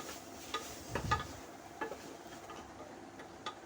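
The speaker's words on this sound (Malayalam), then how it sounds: "പിന്നെ അത് നല്ല ഒന്നും കൂടി ഒക്കെ വഴറ്റി ആ മസാല അതിലേക്ക് ഒന്നുകൂടി നല്ല വഴറ്റിയെടുക്കുക" A spoon stirring and scraping garam masala in a pan while sautéing for squid biryani, giving soft intermittent clinks and a light sizzle, with a few sharper knocks near the start and no talking.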